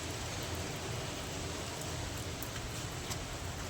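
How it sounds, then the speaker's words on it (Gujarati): Steady rain falls in Kutch as a soft, even hiss of drops with no voices, faint and constant throughout. "મસ્ત મજાનો વરસાદ આવે છે."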